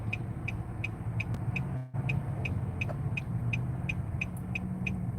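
A car cruises along a highway with a steady low engine and road rumble, interrupted once by a brief dropout, while a regular ticking, likely a turn signal, clicks along.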